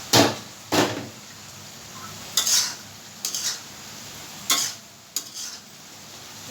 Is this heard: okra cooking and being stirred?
yes